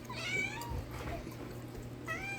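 A cat meows twice in a kitchen where garlic shrimp is being cooked, the calls clear and close, with a low background hum between them.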